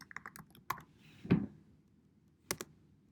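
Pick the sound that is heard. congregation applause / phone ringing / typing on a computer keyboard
typing on a computer keyboard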